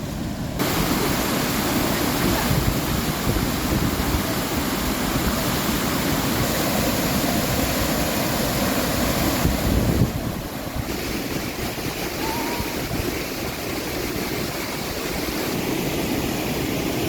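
A river rushes far below a railway bridge near Smith Falls, a steady, loud roar of flowing water mixed with wind noise, continuous throughout with no talking.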